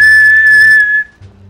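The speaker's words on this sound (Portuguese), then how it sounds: "foi um apito" A referee's whistle in the video game GTA 5 roleplay gives one loud, sharp, sustained blast lasting about a second before cutting off, leaving faint low background noise.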